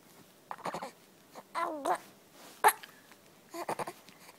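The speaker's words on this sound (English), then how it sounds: "Do you have the hiccups?" A small child's hiccups, a few short, sharp vocal jerks mixed with soft babbling and whimpering sounds, close and fairly quiet.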